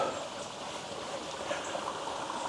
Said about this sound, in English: here's another spot on the back of a waterfall